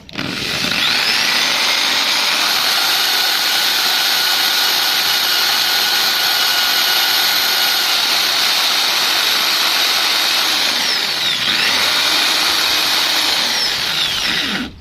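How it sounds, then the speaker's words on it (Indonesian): An electric drill polishes rust off a fan motor part, giving a loud, continuous high whine for about fifteen seconds. It dips briefly and spins back up near the end, with no talking. "Oke, dan sekarang kita bor."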